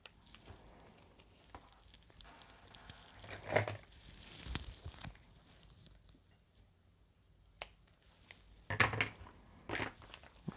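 Crinkly crackles and short tearing rips of double-sided tape, used on a scrapbook album page, come in a few separate bursts, close and fairly quiet, with stillness between them.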